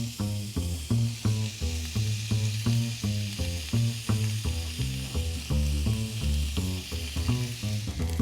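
A New York steak sizzles loudly and steadily in a grill pan, a constant bright hiss riding over a rhythmic, pulsing tonal backing throughout.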